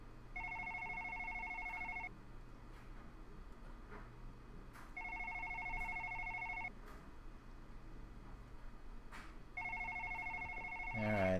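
A telephone rings in the horror game One Late Night, giving three long electronic ring bursts separated by pauses, clear over a quiet low hum.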